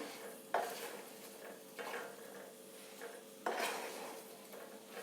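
Amla pickle being roasted and stirred in a pan, a faint low sizzle with several distinct scrapes and clinks of a spoon against the metal, quiet and close.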